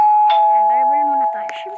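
A clear electronic doorbell chime in a video game rings once, bright and close, with a steady tone underneath.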